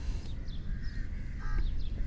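Bird at the beach giving several short harsh caws in a quick series over low background rumble and wind.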